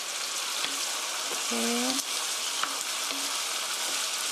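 Chicken and onion stir-frying in a pan with rice wine added, giving a loud, steady hiss with scattered stirring clicks, while a voice briefly speaks over it.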